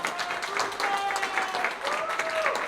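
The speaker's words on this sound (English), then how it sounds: "Let's give those folks a big round of applause." An audience at an event at the Blueberry Cafe gives a brief round of applause, moderate clapping heard alongside a few whistles and voices.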